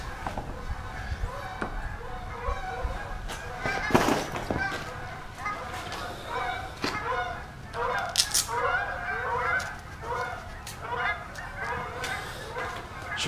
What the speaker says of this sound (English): Freaking ton of geese.